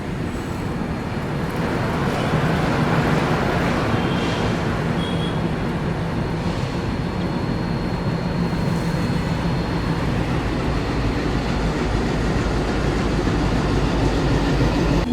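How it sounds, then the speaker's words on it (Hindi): Humsafar Express train pulling out of Bayappanahalli railway station, a steady loud rumble of wheels and carriages rolling along the rails, constant and close throughout with no voices. "चलो भाई साहब, एक ओवरटेक के बाद अभी अपनी हमसफ़र एक्सप्रेस निकल रही है वेपनहली रेलवे स्टेशन से।"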